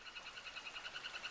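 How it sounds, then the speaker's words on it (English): A frog calls near a stream in a steady series of rapid, pulsing trills, repeated evenly and fairly faint, with no other sounds around it. "Okay, we heard the frog call."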